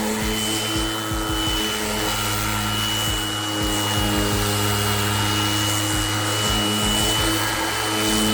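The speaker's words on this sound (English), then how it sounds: "it is sanded very well with this sander here, brushless sander, Orbital" A brushless orbital sander on its lowest speed with a 60-grit disc works over wood filler, giving a steady motor whine with a constant rubbing rasp and brief bumps, loud and close.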